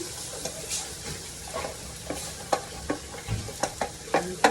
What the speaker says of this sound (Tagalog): Lagatin ko yung si bawang.